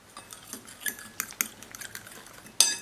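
Spoon stirring a parmesan crust mixture in a salad bowl, light scraping and clinking strokes at an uneven pace, close and quiet, ending with one sharper clink.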